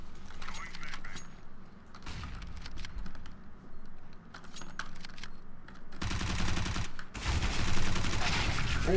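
Rapid bursts of gunfire in Counter-Strike, crackling automatic shots clustered mostly in the final few seconds, loud and close, with clicking keyboard and mouse taps scattered earlier underneath.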